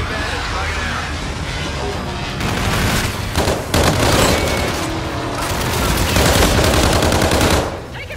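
Rapid automatic weapon fire and explosions in a futuristic military shooter game, Call of Duty: Infinite Warfare, with sustained loud bursts, heavy booms and dense crackling layered close together over roughly eight seconds.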